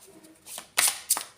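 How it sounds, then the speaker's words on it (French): Playing cards being shuffled by hand during a card reading, heard as two quick riffling bursts after a soft rustle, close and fairly quiet, with no talking. "je vais bien mélanger pour pas reprendre les énergies du premier tirage"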